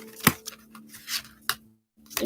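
A deck of angel cards gets shuffled and cut by hand, giving a few crisp close riffles and taps in short bursts separated by brief pauses.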